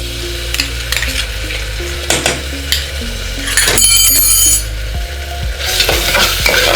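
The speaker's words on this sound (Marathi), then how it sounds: "आता दोन मिनटं आपण आलं लसूण पेस्ट फ्राय करून घेणार" Ginger garlic paste fries in a pan after onions, with a steady sizzle and bursts of stirring and utensil scrapes, close and fairly loud throughout.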